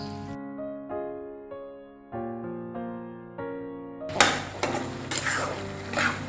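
Cauliflower mutton keema masala bubbles and sizzles in a pan with occasional clinks, starting loud and close after a stretch of soft melodic tones.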